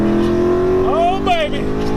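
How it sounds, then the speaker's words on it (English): Ford Mustang engine revving hard through second gear, a loud steady rising drone under excited voices, with a couple of sharp pitch sweeps near the end. "Should I give him another second gear rips?"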